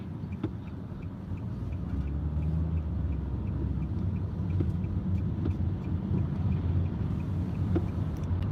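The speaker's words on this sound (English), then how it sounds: "a bunch of big trucks." Heavy trucks roll past on a road at a traffic light, a steady low engine rumble and road noise that stays loud and continuous throughout with no talk.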